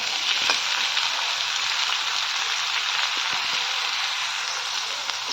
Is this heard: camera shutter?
no